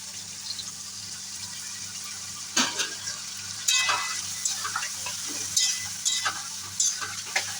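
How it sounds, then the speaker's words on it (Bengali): Soaked spice paste sizzling in a pan for a vegetarian soybean curry, stirred with a spatula so several loud scraping bursts rise over a steady hiss, no one speaking. "একটু নাড়িয়ে চাড়িয়ে দিয়ে দিচ্ছি ভিজিয়ে রাখা মশলাটা"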